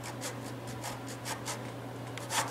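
A back saw cuts a tenor guitar side to length on a bench, the side clamped down with a wooden guide; the near strokes give a steady rhythmic rasp of about ten pulses, ending with a slightly louder stroke.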